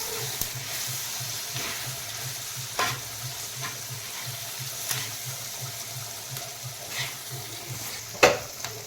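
Sesame seeds fry in hot oil with a steady soft sizzle, sharp pops and crackles scattered throughout and one louder pop near the end, heard close and alone.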